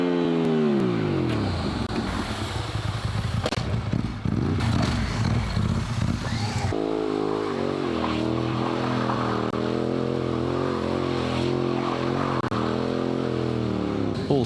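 A Ducati 748 SBS motorcycle engine drones loud and close during a wheelie stunt, its pitch sweeping down and up as the throttle changes before settling into a steady, strong exhaust note.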